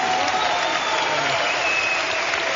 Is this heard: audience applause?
yes